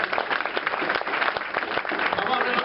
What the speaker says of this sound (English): if you would give one more round of applause to my best helper who's hiding behind the screen here